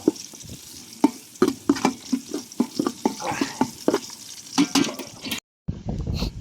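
Garlic sautéing in a pan for rice porridge, with regular scraping stirs over a steady sizzle, loud and close, a brief silence near the end, then more sizzling.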